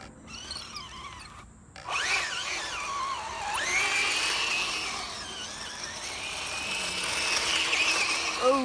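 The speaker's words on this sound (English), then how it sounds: "You can just tell that the motor, like there, the motor is straining a little bit." A small electric motor in a 1:12 scale RUKO Q111 RC tank whines and strains as it pushes through tall grass, its pitch sliding up and down in a continuous loud drone with a short gap near the start.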